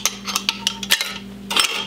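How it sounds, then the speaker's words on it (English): Metal canning jar lids and screw caps are set into and around a boiler for home canning, making a series of sharp metallic clinks and clatters, several distinct impacts spread across the moment, close and fairly loud with no talk. "And then you're going to put your lids and your caps into and around the boiler"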